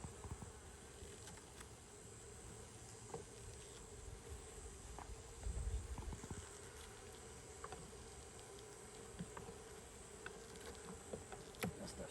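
Honey bees hum steadily around an open beehive in decline, a low continuous buzz with occasional individual bees passing close, faint clicks and handling noises over it and no talk.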